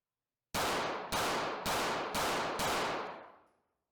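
SIG P365 X-Macro pistol firing five sharp rounds in quick, evenly spaced succession, loud and close, the last shot's echo trailing off into silence.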